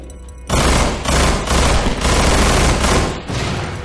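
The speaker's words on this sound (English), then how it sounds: "And explode! Yes!" A loud burst of explosions and rapid gunfire erupts in the Half-Life mod Estranged, starting suddenly after a quiet moment and rumbling in repeated heavy blasts until the end.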